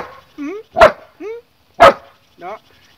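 A German shepherd barks on command: two sharp, loud barks, each answering a short spoken command from a nearby man.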